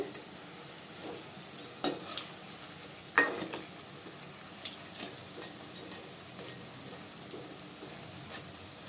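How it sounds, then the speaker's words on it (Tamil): Bondas fry in hot oil, a soft, continuous sizzle broken by a few sharp clinks and light taps from a ladle against the pan. "போண்டா நல்லா வேகட்டுங்க செவந்து."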